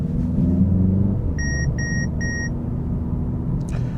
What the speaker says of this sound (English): That was the collision detection warning me that that guy might walk in the road.